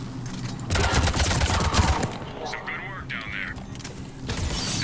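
Rapid automatic bursts from the M8 Avenger assault rifle in Mass Effect 3 multiplayer, a loud stretch of fire followed by scattered mechanical clatter and effects.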